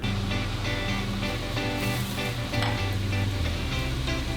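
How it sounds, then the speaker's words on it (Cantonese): Shrimp coated in flour and starch deep frying in hot oil, a loud dense crackling sizzle that runs unbroken, with occasional bubbling surges close by. "炸咗一次再分炸就更加脆㗎啦"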